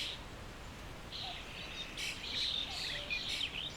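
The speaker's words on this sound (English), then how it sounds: "Birdsong and the calls of distant waterfowl provide a soundtrack to our walk, their sounds echoing across the flat fen" Small birds chirp and trill over a steady hiss of wind across open Suffolk marshland fens, the calls short and scattered at moderate distance with no voices.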